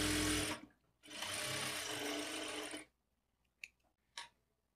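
A sewing machine stitches a plain blouse in two loud, steady runs, a short burst and then a longer stretch of about two seconds, followed by a couple of faint clicks as the fabric is adjusted.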